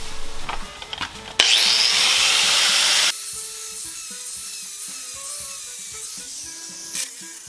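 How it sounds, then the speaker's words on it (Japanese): A power drill whines loudly against the metal car body of a Mazda Roadster, treating rust on the side sill, for under two seconds, abruptly starting and stopping, followed by quieter scraping and faint tool noises. "あとここはドリルでやります。"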